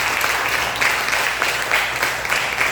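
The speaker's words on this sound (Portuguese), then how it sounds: "Vamos aplaudir Jesus." A church congregation applauds together, a loud, continuous wash of many hands clapping at once, steady throughout with no voice over it.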